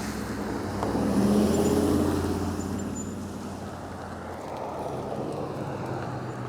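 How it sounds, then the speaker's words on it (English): Steady road traffic noise passes on a sunny day during a ride on a Mooncool TK1 Fat20 electric fat-tire trike, a broad rumble swelling briefly as a vehicle goes by, then settling into a constant wash with some wind. "It's awfully trafficy here today."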